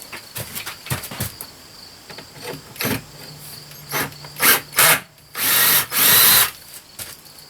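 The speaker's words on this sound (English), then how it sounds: "The drill is stuck in the wall." A battery power drill bores into a tiny house wall during paneling work in short bursts: several brief whirs early on, then longer, louder grinding runs near the end, with quiet gaps in between and no talk.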